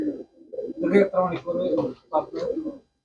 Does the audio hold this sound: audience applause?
no